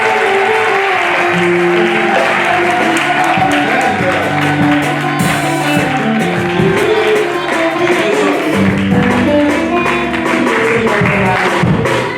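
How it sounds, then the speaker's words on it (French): Sustained audience applause at a church testimony gathering, dense and fairly loud throughout, with some voices and musical tones mixed in. "On peut lui donner le même applaudissement."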